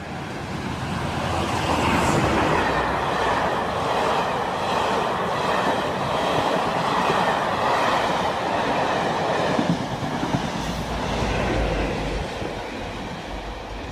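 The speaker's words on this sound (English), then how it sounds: "57311 Thunderbird, 57303 Pride of Carlisle, passing Prescott" A passenger train hauled by diesel locomotives 57311 and 57303 rolls past Prescott in the dark, a steady loud rumble with rhythmic wheel clatter and some rail squeal, sustained throughout with no talk.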